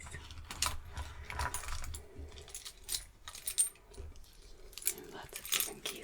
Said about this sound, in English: I have my keys.